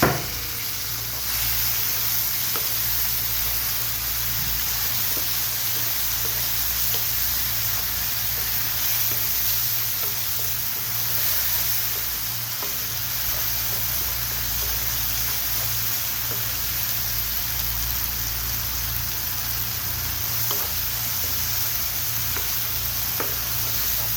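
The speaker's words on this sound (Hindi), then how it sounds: "अब जो टमाटर की प्योरी थी वो मैं इसके अंदर ऐड कर दूँगी।" Tomato puree hitting a pan of frying potatoes and eggs, a loud, steady, close sizzle with a faint stirring scrape, continuous and unbroken over a low stove hum, with no talking.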